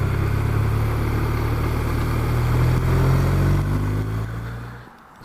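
A 2015 BMW R1200RT touring motorcycle rides along with a steady, loud engine drone and wind rush, the engine note easing off and fading as the bike slows near the end.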